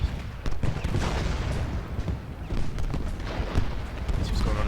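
Musket volleys and artillery fire from a Civil War battle in Ultimate General Gettysburg, with dense overlapping gunfire crackling and booming steadily throughout, a continuous rumbling barrage.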